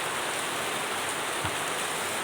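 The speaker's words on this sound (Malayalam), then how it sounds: "അടിപൊളിയായിട്ട് മഴ പെയ്യുന്നത്" Steady, dense rain pours down in a continuous hiss, with no voices, just the even wash of heavy rainfall close by.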